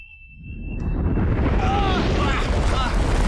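In the Portal 2 video game finale, a portal gun is shot at the moon: a thin steady tone gives way to a loud, swelling, roaring rush that fills the rest of the moment.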